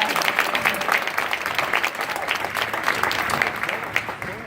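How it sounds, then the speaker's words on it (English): An audience at an NAACP awards event breaks into steady applause, a dense wash of many hands clapping at close range with no talking over it. "Can we give the young people another round of applause?"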